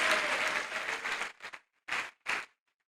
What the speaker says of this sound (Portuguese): E se você crê, aplauda ao Senhor